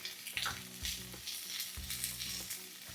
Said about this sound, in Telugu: రౌండ్ రౌండ్గా క్యాప్సికమ్ ఈ మూడు లైట్గా కచ్చపచ్చగా వేగాలి